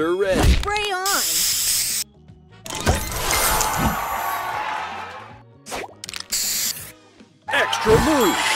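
In a match-three style video game, bursts of hissing spray effects alternate with sweeping, warbling electronic tones and swooshes, set against choppy background music that cuts in and out.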